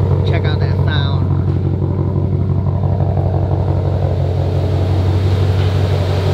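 Shelby GT500 Cobra, Terminator-style build, with a deep engine rumble and steady low idle throughout, a person talking over it in the first second or two.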